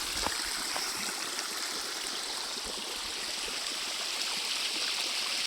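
Water gushing steadily from farm irrigation pipes opened across a groundnut field, a continuous broadband rush like a stream, close and fairly loud throughout with no talk.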